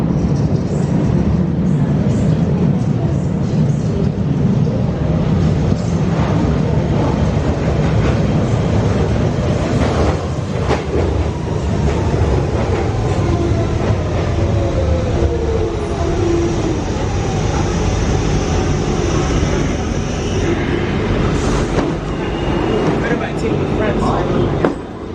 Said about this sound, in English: here we are on EALING Broadway, on Shepherd's Bush Underground, which ends up going overground